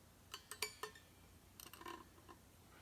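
Faint, sharp ticks come from guitar strings moving over the roller bridge saddles of a Les Paul fitted with a Vibramate; a few separate clicks are followed by a quick cluster of ticks, close-up and quiet.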